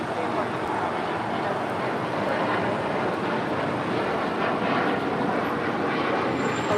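A Delta heavy jet takes off from runway 25 right, its engines giving a loud, steady broadband roar that holds level for the whole stretch with no break.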